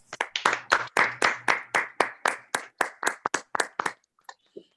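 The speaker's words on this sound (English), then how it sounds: "Let's please give them a round of applause for their commitment to the district." Attendees of a virtual school board meeting applaud with about fifteen crisp, evenly spaced hand claps from one or a few people close to the microphone, fading out with a couple of scattered final claps.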